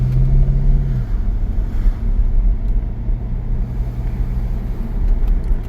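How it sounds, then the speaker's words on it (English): Low steady engine rumble of a 2003 Corvette C5 coupe driving, heavy and continuous, with a brief higher whine at the start fading into road noise. "drives nice, like a muscle car, pretty heavy"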